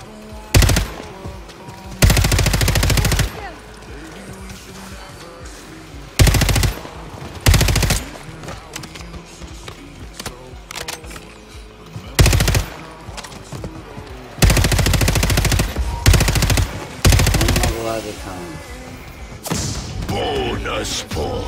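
Gunfire in the video game Call of Duty Warzone, with loud bursts of automatic fire and repeated shots coming in clusters close up, over steady background game sound.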